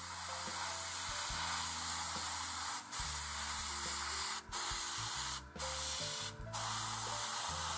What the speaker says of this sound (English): Lastly, some gloss varnish to protect the paint and ready it for a wash.